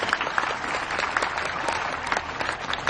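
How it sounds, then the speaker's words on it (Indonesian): A congregation inside a grand mosque claps together, a brisk, fairly close burst of many hands with individual sharp claps standing out, steady throughout. "Kasih tepuk tangan buat beliau"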